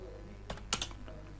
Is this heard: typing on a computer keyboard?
yes